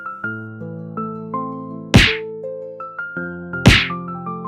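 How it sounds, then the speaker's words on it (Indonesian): Two sharp, loud punch impacts land over a plucked, stepping melody, a cheek-punch sound effect from an Indonesian audio drama about an assault; the hits stand out clearly above the music. "Tinju Adrian mendarat keras di pipi kanan Bambang."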